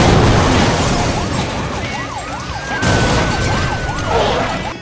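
Car crashes in the racing video game Need for Speed Most Wanted, a dense roar of impacts and engine noise under a wailing, rising-and-falling police siren, loud and continuous throughout.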